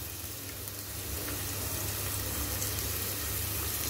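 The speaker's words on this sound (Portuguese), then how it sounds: "aqui eu tô refogando o alho primeiro" Garlic sizzles steadily in a hot pan as it is sautéed with onion and leek for a Turkish green lentil soup, a continuous close crackle with no voices.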